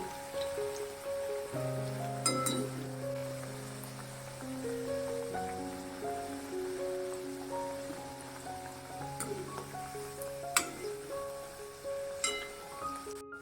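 Kothimbir bhaji, coriander and gram-flour fritters, sizzle and fry in hot oil, giving a steady crackling hiss under soft background music with a few sharper pops.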